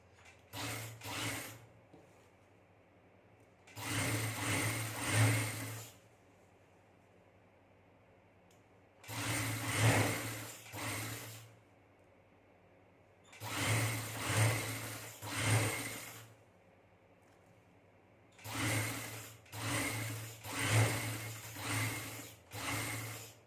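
A sewing machine stitches lace onto the edge of a trouser leg, running in several whirring bursts of a few seconds each with short quiet pauses between them and no talking.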